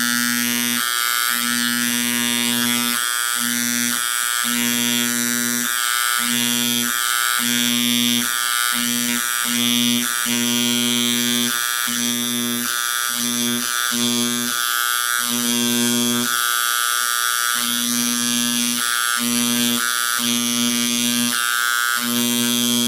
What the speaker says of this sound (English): I've got my Dremel engraver here